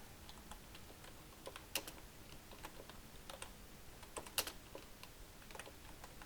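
Typing on a computer keyboard while entering text into a Microsoft Word document, with quiet, irregular key clicks and a couple of sharper louder strikes, close and alone with no talk.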